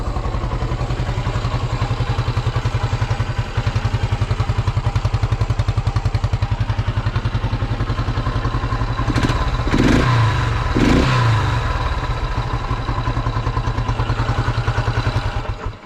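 A restored 1974 Honda XL250 motorcycle engine idles steadily with a loud, even putter, broken midway by a few brief clattering bumps before settling back into its rhythm.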